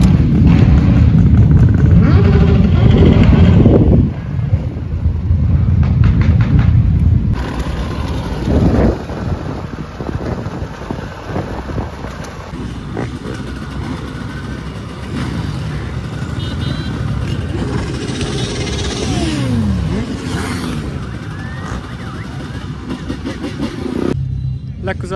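Trial motorcycles ride away at an outdoor trial exhibition in Balkány, their engines revving and droning past amid wind buffeting and crowd noise, loud at first then fading to a farther, wavering whine with someone talking over it.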